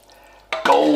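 Chicken ramen broth pours from a ladle into a bowl: quiet at first, then a sudden close splash and steady liquid pour that continues to the end.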